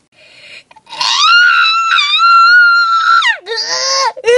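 A person imitates a scream as a demonstration of the fright at a haunted hayride: a single loud, sustained, high-pitched shriek of about three seconds, wavering slightly and falling into a broken, cry-like tail.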